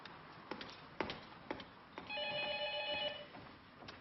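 A telephone bell rings in an indoor room, starting with a few sharp taps, then a steady ringing burst about a second long, followed by a faint tap; no one speaks over it.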